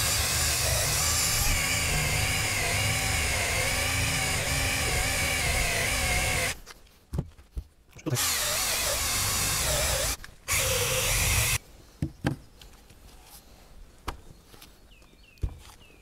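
A cordless drill whines steadily for several seconds, then stops; shorter bursts of drilling follow, separated by quiet pauses and small clicks.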